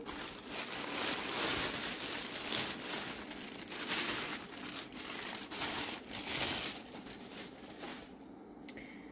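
A plastic bag holding diamond painting products crinkles and rustles close up as a package is unboxed, a soft, uneven crumpling with brief pauses.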